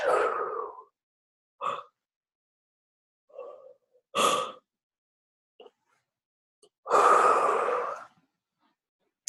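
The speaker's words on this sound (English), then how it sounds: "Okay, so just breathe." A person takes several deep breaths, slow inhales and long sighing exhales spaced apart with silence between, close and fairly loud, during a guided breathing exercise.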